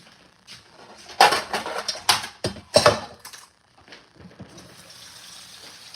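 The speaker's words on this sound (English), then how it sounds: "I like to make sure my water's already steaming hot coming out the faucet" Hot water gushing from a kitchen faucet, poured in loud bursts with clattering handling noises between, then easing to a softer steady trickle.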